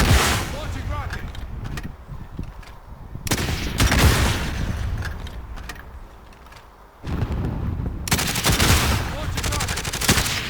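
Call of Duty Warzone video game combat with loud bursts of rapid machine-gun fire and heavy launch-like blasts, separated by quieter stretches of rumbling in-game ambience, with several abrupt onsets across ten seconds.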